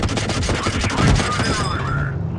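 Rapid automatic cannon fire from a tank emptying its magazine in a tank battle video game, a loud continuous burst of shots that fades into a falling whine.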